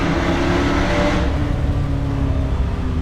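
A Ford Mustang with reworked brakes drives on the road, its engine giving a steady loud roar with broadband road and wind noise and a slight drop in tone partway through.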